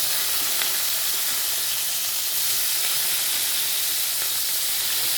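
Onions sautéing in a pan over a home cooking fire in a thatched-roof kitchen, a steady loud sizzling hiss that runs unbroken throughout with no talk.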